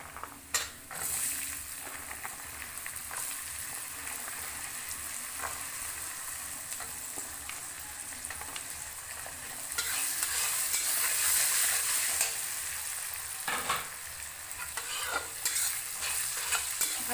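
Onions frying with turmeric and boiled chickpeas in a pan for homemade samosa filling, a close, continuous sizzle with steady scraping stirs of a utensil and no talk.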